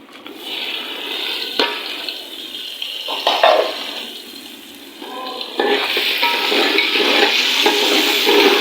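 Almonds, raisins and coconut fry and get stirred in golden roasted semolina for sooji halwa, a continuous close sizzle with scraping strokes that grows louder and busier toward the end.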